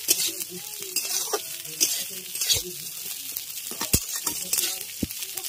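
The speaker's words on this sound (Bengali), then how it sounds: "সেমাই ভাজতে ভাজতে সেমাইয়ের মধ্যে দিয়ে দিচ্ছি কিশমিশ আর কাজু" Vermicelli frying in a pan with raisins and cashews added, crackling sizzle under repeated stirring scrapes and occasional sharp clatters, close and fairly loud.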